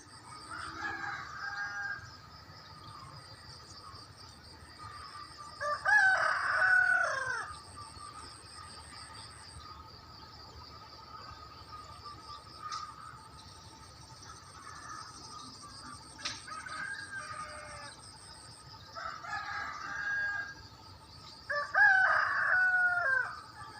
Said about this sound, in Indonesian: membangunkan ayam-ayam jago supaya berkokok